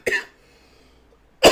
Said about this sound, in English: every time I cough, my chest hurts